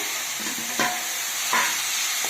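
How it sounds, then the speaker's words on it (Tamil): Spinach with garlic and onion sautés in hot oil for murungai keerai poriyal, a steady soft sizzle broken by a few louder scraping stirs of the pan. "பூண்டு வந்து கொஞ்சம் கீரை போட்டு வதக்கிக்கலாங்க."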